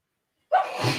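A single sharp sneeze bursts out after a moment of silence, close and fairly loud, trailing off into a breathy exhale.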